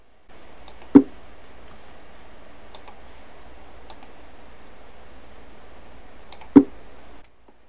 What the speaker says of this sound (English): some of the sound effects are bongo drums when you access the menus or launch some applications